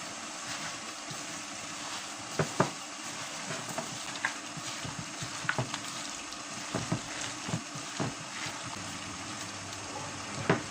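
Cassava batter with sugar, salt and a little water is mixed by hand, giving soft wet sloshing and squelching with scattered light clicks against the bowl, fairly quiet and without talking.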